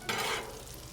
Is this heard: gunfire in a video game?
no